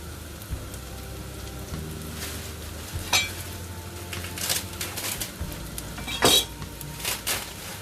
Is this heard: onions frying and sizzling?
yes